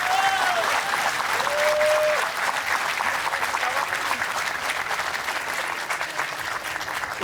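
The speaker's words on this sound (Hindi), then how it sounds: "आप इन्हें तालियों के ज़रिए बताएं कि आपको कितना अच्छा लगा" A studio audience at a Pakistani political panel talk show gives sustained applause for the guests, loud and continuous, with a voice briefly speaking at the start.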